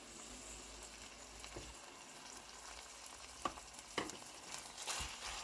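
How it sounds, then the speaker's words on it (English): Seasoned Nigerian meat pie filling with seasoning cubes, salt and pepper sizzles faintly in a pan, with soft scraping stirs near the end that grow slightly louder. "We are still going to give it a stir, thoroughly mix."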